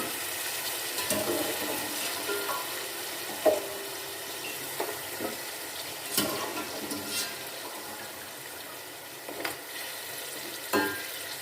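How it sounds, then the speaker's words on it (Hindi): Goat trotters frying in spiced masala in a pan give a low steady sizzle with scattered scraping stir strokes and clatters, close up and without talk. "अब इसमें हम पाई डाल देंगे और पाई को भी हम अच्छे से फ्राई कर लेंगे।"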